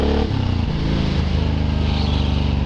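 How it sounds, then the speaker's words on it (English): A tiny 100cc Suzuki motorcycle engine runs loud and close, a steady low throbbing rumble that shifts pitch slightly as the revs change. "little more engine noise if I can."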